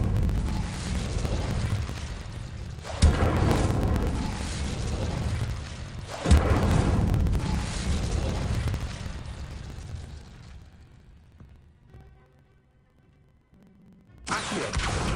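Incendio fire spell from Hogwarts Legacy, heavy roaring whooshes and booms, loud and sustained with sharp onsets near three and six seconds, fading to near silence before a final burst.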